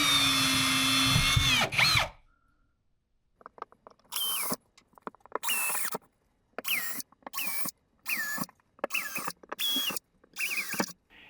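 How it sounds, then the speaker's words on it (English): A power drill whines in short repeated bursts while boring holes in drywall, pitch rising and falling as it bites, with brief pauses between each burst; close and loud. "Now I can drill the holes in the drywall and then insert the anchors."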